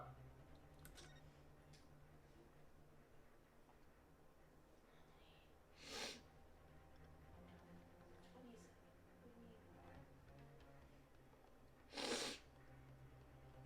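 Two sharp sneezes, one around six seconds in and a louder one near the twelfth second, burst out over a low steady background hum during a livestream.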